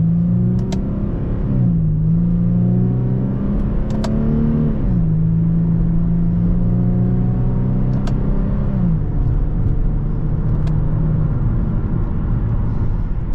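Infiniti G35 engine revving up through the gears on paddle-shift upshifts, a loud steady drone that climbs in pitch and drops at each shift, several times over about thirteen seconds, close and continuous with no talking.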